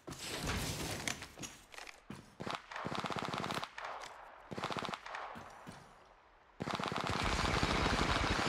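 Machine gun fire in a video game, loud rapid bursts broken by short pauses, ending in a long sustained stream of shots with no talk.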